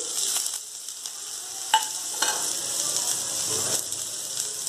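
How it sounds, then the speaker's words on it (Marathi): Onion and garlic browning in a pan for a sprouted horse gram curry, a steady sizzle with a few sharp metallic scrapes and clicks of a spatula against the pan. "कांदा आणि लसूण हा चांगला ब्राऊन कलरचा परतू द्यायचा"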